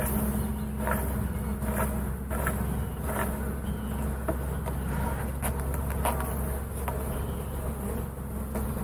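Dense, steady buzzing of many bees swarming close around two beehives set near each other, a continuous insect drone filling the scene with no talk.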